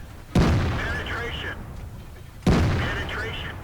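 Two heavy cannon shots from a T57 Heavy tank in a tank combat video game, each a sharp loud boom with a long ringing decay, about two seconds apart, with a game voice chattering between them.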